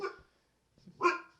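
Pet dog named Finn giving two short indoor barks, the first sharp yip and a second louder bark after a brief pause, close by.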